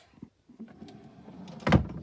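A drawer slides open with one quick, fairly loud scrape near the end, after a few faint soft knocks in an otherwise quiet room.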